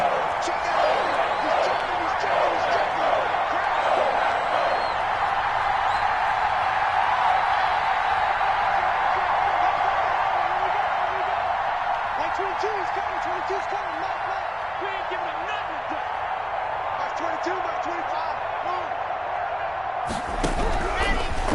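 A stadium crowd in an American football video game on PS4 keeps up a steady, loud roar for the whole stretch, with game commentary talking over it.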